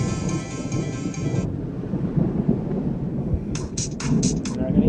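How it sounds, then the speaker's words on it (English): Thunder rumbles low and sustained during a storm, with wind buffeting the microphone. A faint tonal hum sounds early on, and a short series of quick beeps comes near the end. "I'm waiting for the thunder to go by."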